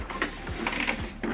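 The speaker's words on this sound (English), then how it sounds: "you wait and the ink holder position itself where it's supposed to be" An HP ENVY printer whirs and clicks as its ink cartridge holder slides into position, a short run of small mechanical rattles and motor hum close by, with no voices.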